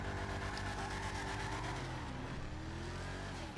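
In-game engine of an AC Cobra MkIII (Mamba) in GTA 5 Online, a steady, loud, throaty engine drone with layered low harmonics running throughout, rising and falling slightly in pitch, with no talk.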